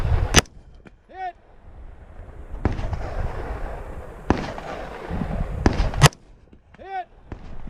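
Sharp, loud gunshots crack out at an outdoor cowboy action shooting match, several reports spaced a second or two apart, each trailed by metallic ringing from steel targets being hit.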